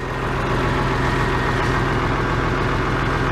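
An Oliver 575 tractor engine runs at a steady, rhythmic idle close up, with a loud, low, continuous chug and no talk.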